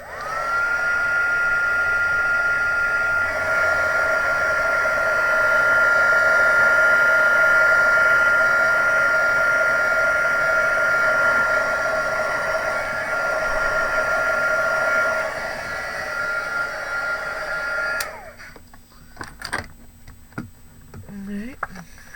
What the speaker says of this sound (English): I will just give it a quick blast with the heat gun just to dry it off completely.